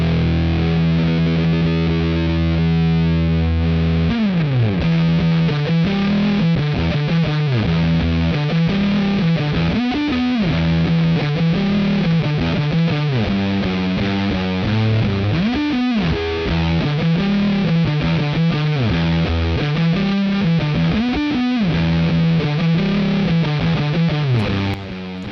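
Electric guitar played through a Proco RAT 2 analog distortion pedal, heavily overdriven with a fuzzy edge, chugging riffs and sustained chords running loud and continuous for the whole stretch with no talking.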